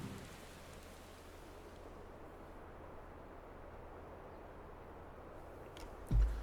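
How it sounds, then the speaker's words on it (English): Steady, moderate rain falls in Final Fantasy XIV: Shadowbringers, an even wash of noise that holds throughout with no talk, ending in a brief thump. "Boy, it stopped raining quick."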